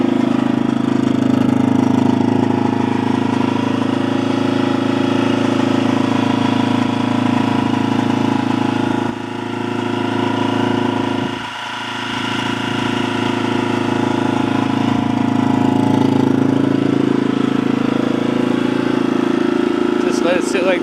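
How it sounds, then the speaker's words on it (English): A Yamaha XT250 motorcycle engine idles steadily just after starting with the choke fully on, a loud continuous close-up drone with brief dips in level partway through. "right after I said that, it fired right up"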